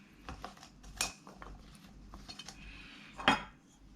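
Utensils clink and scrape against a dish while green beans are tossed with salt and soy sauce, several light, irregular taps and rattles close by, no talking.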